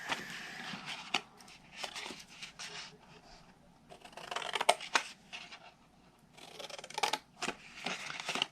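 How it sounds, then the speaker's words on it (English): Scissors snip apart stamped paper squares for a Christmas snack cake box, a string of short crisp cuts with rustling paper between them, close and fairly quiet with no talking. "I'm just going to cut them apart."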